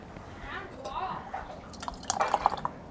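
Sticky cowboy candy syrup from sweet and spicy candied jalapeños pours into a canning jar, making soft wet glugs followed by a cluster of sharper drips near the end.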